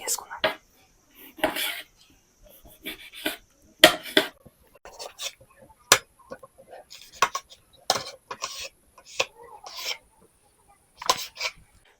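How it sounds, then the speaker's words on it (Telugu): Knife chopping tomatoes into small pieces on a board, a series of sharp close taps in short irregular bursts. "చిన్న చిన్న పీసులు అయితే కటింగ్ చేసుకుందాం చిన్న చిన్న పీసులుగా కటింగ్ చేసుకుందాం"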